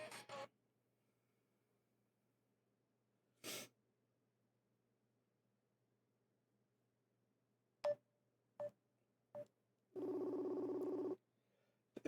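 Telephone dialing tones: a few short beeps and then a sustained tone of about a second, faint and isolated against near silence, with brief noisy bursts earlier.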